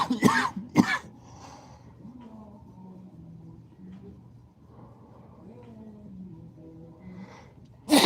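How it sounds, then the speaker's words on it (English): Two sharp sneezes or coughs burst out close by at the start, then a quiet stretch with faint low humming and murmuring, and another loud sneezing burst at the very end. "I'm over here sneezing and coughing."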